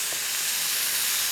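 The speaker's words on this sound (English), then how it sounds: "I'm going to put some bacon or pancetta." Three slices of bacon or pancetta sizzle steadily in a pan, a continuous bright hiss that stays even and close throughout, with no voices over it.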